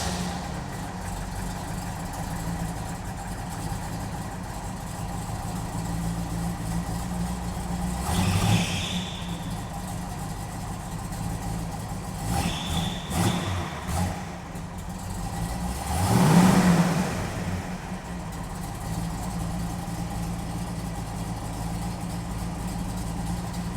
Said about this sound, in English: it's a little tamer at idle, but you can hear the clackety-clack of the solid lifters on this